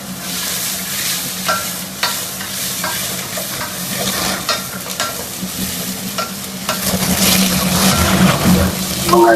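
Torn onion pieces sautéing in a little oil for mutton chukka, a dense close sizzle broken by frequent spatula scrapes and stirs, louder in the final seconds, no speech.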